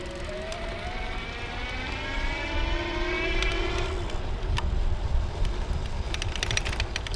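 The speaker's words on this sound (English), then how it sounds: "So I'm just gonna kick it off with the throttle." A Pedego Latch electric bike pulls away on throttle, its motor whine rising in pitch as it speeds up, under steady wind and road rumble, with sharp clicks and rattles toward the end.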